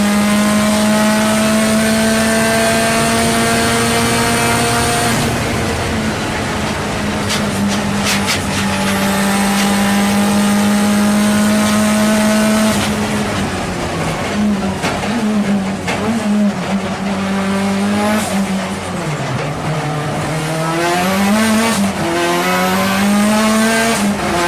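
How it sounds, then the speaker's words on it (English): Mitsubishi Lancer Evolution 9 WTAC Cyber Evo race car, an 800-horsepower all-wheel-drive time-attack build, whining loudly through straight-cut gears as the engine climbs, shifts and drops, steady high-pitched gear whine rising and falling over a continuous roar. "Number 10, Mitsubishi Lancer Evolution 9 WTAC, also known as the Cyber Evo."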